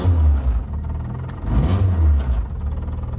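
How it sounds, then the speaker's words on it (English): Full race-spec Fiat Abarth engine revved a couple of times while stationary, two loud low surges with a throaty rumble between them, close by and with no talk over it. "Full race car Fiat Abarth. Rev? Alright, he said I could give it a couple revs."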